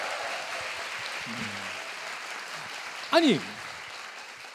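Studio audience applauding on a Korean talk show, a steady broadband wash of clapping under the host, with a short spoken exclamation partway through.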